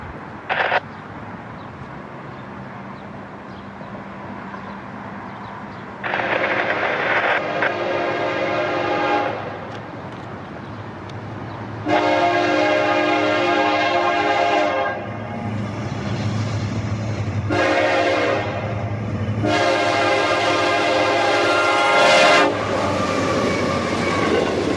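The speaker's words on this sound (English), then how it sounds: "Our last train for today is a westbound intermodal coming in hot towards us on track 1." Norfolk Southern westbound intermodal freight train on the Chicago Line in Lorain County, Ohio, led by SD70-type 1029 and trailing AC44C6M 4639, approaches with several long, loud horn blasts over a steady rumble of rolling cars.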